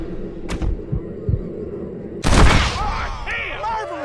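A gunshot rings out in the Western video game Red Dead Redemption as a single loud, sharp crack after some softer thumps, followed by a ringing tail and someone speaking.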